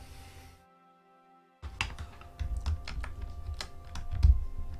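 Computer keyboard typing up close: after a brief hum and a quiet gap, a quick run of sharp key clicks and thunks of varying loudness, with no voice.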